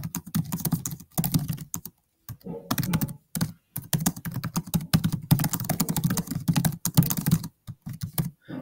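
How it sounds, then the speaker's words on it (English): Typing on a computer keyboard, bursts of quick key clicks in several runs separated by short pauses, close and clear with no talk. "And I can type."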